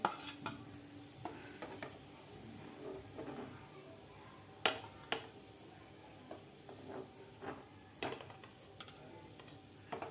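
Gulab jamun made from milk powder fry quietly in oil, a soft bubbling sizzle broken by scattered ticks and clinks of a spoon moving the balls around.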